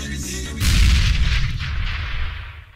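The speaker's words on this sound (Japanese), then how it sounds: "爆発。" A loud explosion in a Skibidi Toilet animated short: a sudden deep boom that swells into a heavy rumbling roar, then slowly dies away with debris-like crackle.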